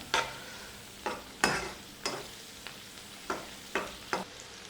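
Loud, rhythmic stirring scrapes as shallots fry on full flame in a hot pan, about eight strokes over a steady background sizzle.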